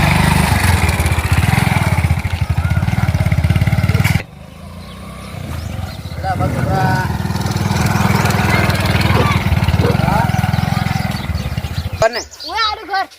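A motorcycle engine idles with a steady, throbbing low rumble, dropping off sharply partway through; people talk over it and it cuts out near the end.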